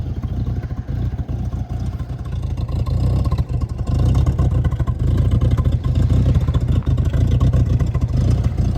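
A Ford car engine idles and rumbles steadily through a patched muffler exhaust, a low continuous drone with slight surges, no voices.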